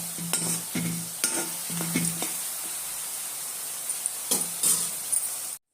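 Roasted dals being stirred into rava pulihora, a semolina tamarind dish with mustard and dried red chillies, in a pan. Repeated scraping spoon strokes come in uneven bursts over a steady soft sizzle, close and fairly loud, with no talking.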